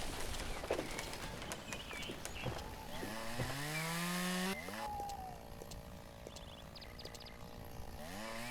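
A chainsaw cutting trees in the video game Lumberjack Dynasty, with an engine that revs and rises in pitch mid-clip before cutting off, mixed with clatter and faint bird calls in a quiet outdoor scene.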